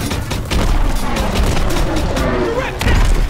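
Dense rapid gunfire and heavy booming explosions from a Call of Duty WW2 battle on the Rhine, loud and continuous, with shouted voices underneath the barrage.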